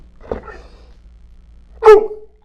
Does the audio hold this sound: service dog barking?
yes